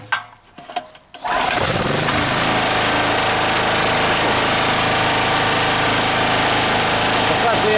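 A Forte FG3500 petrol generator, 2.7 kW, starts after a brief quiet moment and settles into a steady, loud, even idling drone that runs unbroken to the end.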